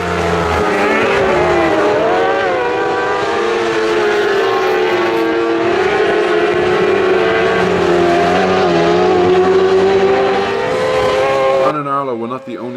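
Sidecar racing outfits scream around Knockhill circuit, high-revving engines wailing with shifting pitch as they squeeze past one another, loud and sustained before cutting off abruptly near the end.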